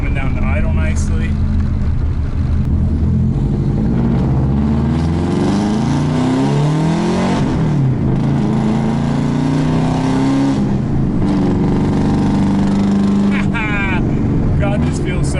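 A WRX-swapped Subaru GC8 with a custom exhaust pulls away, its engine loud and close as revs rise and fall through gear changes, with a voice speaking over the drone.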